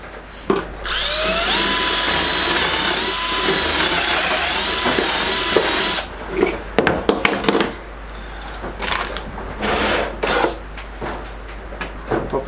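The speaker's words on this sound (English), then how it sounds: "Clear my drill bit before my next drill, again somewhere in the middle," A power drill whines steadily for several seconds drilling wood for a potting table, then stops, followed by scattered knocks and clatter of handling wood and tools.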